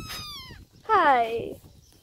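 A cat meows twice up close: a short, high first call, then after a pause a louder, longer, wavering meow that trails off, in a quiet room.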